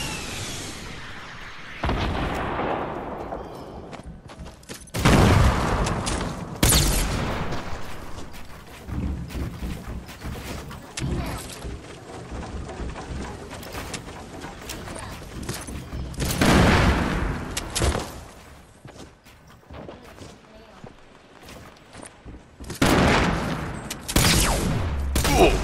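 Rapid bursts of gunfire and explosions in the battle royale video game Fortnite come in several loud clusters separated by quieter stretches, with sharp cracks and booming blasts.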